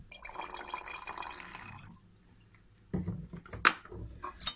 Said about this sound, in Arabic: بعد كده هنحط الخل